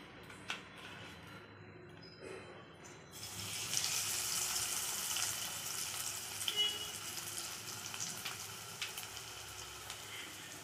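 Cut potato and capsicum pakoda pieces drop into hot frying oil, and a soft hiss swells into a steady, close sizzle that carries on with small pops and crackles.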